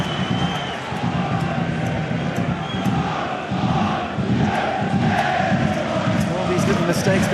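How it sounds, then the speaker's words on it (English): At a Dundalk FC versus FC BATE Borisov football match, a large stadium crowd roars and jeers steadily in a continuous swell, with a commentator talking over the noise. "Mistakes being seized on by the crowd now."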